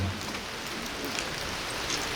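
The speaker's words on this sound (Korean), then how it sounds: "이 빗소리를 뚫고" Rain falls steadily over an outdoor memorial ceremony on an autumn day, an even, hissing patter of drops on surfaces without any break and with no voices heard.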